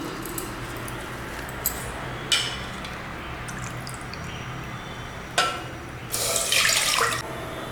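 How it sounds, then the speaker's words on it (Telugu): Water poured from a cup into a cooking pot while making Rayalaseema ragi sangati, heard as a few short splashing pours with a louder, longer gush near the end, under steady low background noise, no talking. "నేను ఇందులో ఎనిమిది కప్పులు నీళ్ళు పోసినాను"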